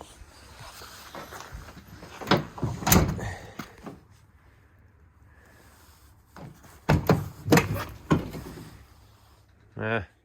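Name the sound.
truck tailgate with soft-opening shock slamming shut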